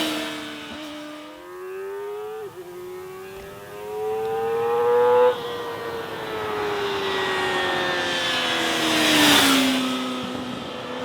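Kawasaki Ninja ZX-4RR inline-four motorcycle engine revving while riding through the countryside, a loud, close, continuous high-pitched whine that climbs and falls with throttle and gear changes, with wind rushing over it and no talk.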